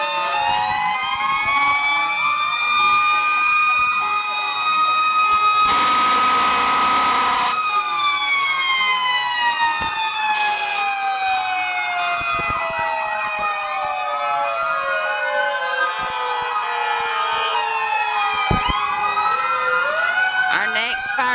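A fire department truck siren wails loudly through a parade, its rising and falling tones sweeping continuously for the whole stretch, with a burst of horn and a spoken announcement over the top.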